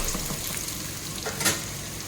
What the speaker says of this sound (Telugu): ఇప్పుడు మనము ఆనియన్ వేస్తున్నాము కట్ చేసి పెట్టిన ఆనియన్ ఇది బాగా ఫ్రై అవ్వాలండి బాగా ఫ్రై చేసుకోవాలి